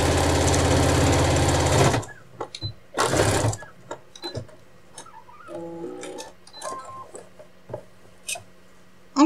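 A sewing machine stitches the seam of a retro apron in a rapid close whirring run, stops, gives a second short burst, then small clicks and fabric handling follow in quiet.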